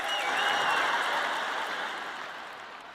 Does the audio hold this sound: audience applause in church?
yes